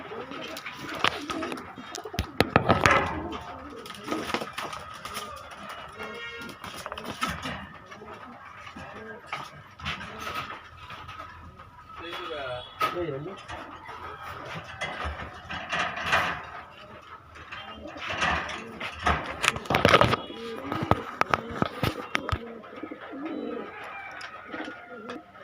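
White pigeons cooing repeatedly in a loft or market, soft throaty coos recurring over sharper rustles and knocks, with intermittent voices nearby.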